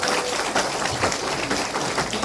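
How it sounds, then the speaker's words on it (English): Audience at a stand-up comedy show applauds a pair of comedians. Dense, even clapping fills the whole moment at close range and fairly loud, with no voice over it. "Gurps, Cheema, big round of applause."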